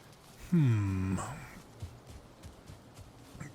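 Bird call in the video game Valheim, a single loud descending warbling cry near the start that fades within about a second, followed by quiet ambient game sound.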